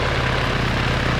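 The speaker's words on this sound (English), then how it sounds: "Taxiing on taxiway." An aircraft taxiing on a runway in the video game Arma 3 gives off a steady, low engine drone with a constant hum and no breaks.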